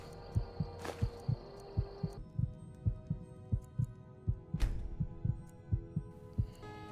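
Heartbeat sound effect in the video game Skyrim with the Requiem mod: a steady, regular double thump pulsing throughout, layered over a soft tonal hum and brief game sound effects.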